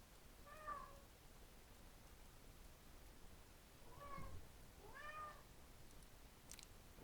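Indoor cat meowing several times, short rising-and-falling calls spread across a few seconds, faint and fairly close in a quiet room, with no talking.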